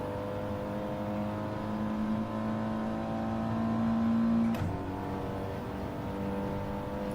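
Engines of racing cars in a racing video game, including a fast Audi, drone steadily at high pitch with a sustained tone, rising slightly before a sudden shift as one car sweeps past, continuous and fairly loud.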